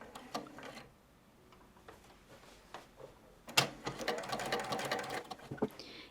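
Domestic sewing machine running long gathering stitches across a dress skirt fabric, heard close in short bursts and then a sustained whirring run with mechanical ticking.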